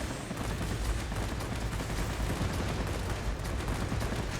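Ground fire targets a Me-410 heavy fighter in the World of Warplanes combat game, producing a dense, continuous roar of rapid gunfire and engine noise at steady loudness, with no voices.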